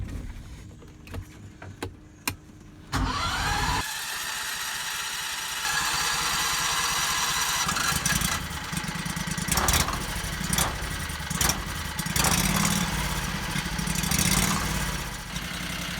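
A Predator 670cc engine fitted in a Renault car is cranked and catches, then settles into a steady idle with a few revs rising and falling, close and fairly loud, with faint clicks before starting.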